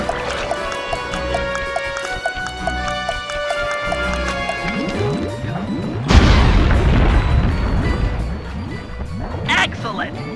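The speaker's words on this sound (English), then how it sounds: "Place the dynamite when you get near the anchor, or kaboom!" Dynamite blast in the Sly 3 video game, a loud broadband boom bursting out about six seconds in over running footsteps and game music, followed by rumbling debris.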